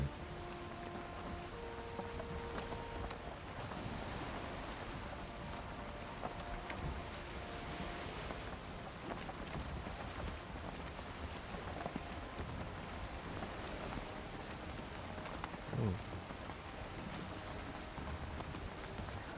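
A boat sails across the sea in Valheim, with a steady wash of water and wind that holds at an even level throughout, calm and unbroken, with no talking.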